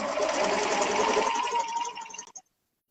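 A sewing machine stitches quilting fabric in one steady mechanical whir with a needle that is due for changing. It runs at a constant pace for about two seconds, then slows and stops, close and fairly loud.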